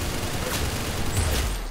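Rapid overlapping gunfire from the Roblox shooter game Arsenal, a dense loud stream of shots with booming low thumps building toward the end, no speech.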